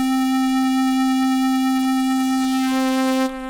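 A Predator2 software synthesizer plays its low morph waveform as one steady, buzzy sustained note rich in harmonics, with faint clicks early on and the upper overtones shifting near the end, heard alone.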